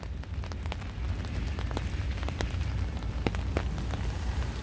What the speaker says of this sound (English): while it's raining right now.